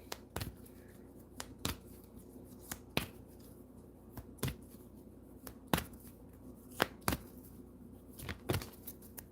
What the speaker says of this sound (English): Y'all hear me over here shuffling.